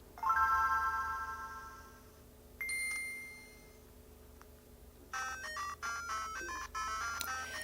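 Game audio from the Sega Master System version of Outrun played on a Revo K101 Plus handheld: bright, beepy chiptune tones in short melodic phrases, with a sustained note, a pause, then a busier run of staccato notes.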